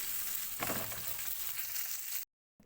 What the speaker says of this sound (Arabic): ننزل كده بمعلقة سمنة وننزل بالبصل، وهنشوح البصلة كده لغاية ما تاخد لون ذهبي جميل كده غامق